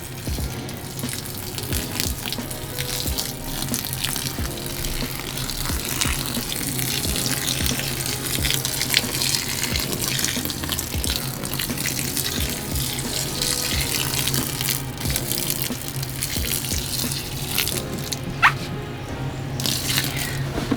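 Hot water pours steadily from a jug for the whole stretch, a close, even splashing rush with no voices.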